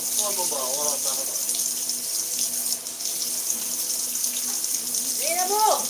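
A tap runs steadily with water gushing in a constant broadband rush, while voices speak close by over the flow, and a brief higher vocal sound rises near the end.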